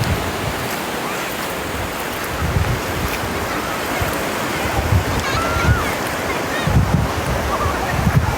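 Steady broadband wash of surf with gentle swells rising and falling, wind rushing over the microphone throughout.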